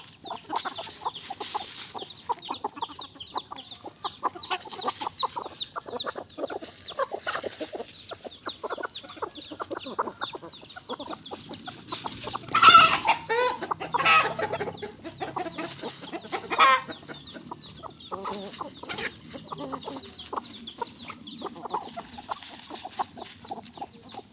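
Chickens cluck steadily and close by throughout, with scattered louder squawks and calls rising midway over a busy farmyard background.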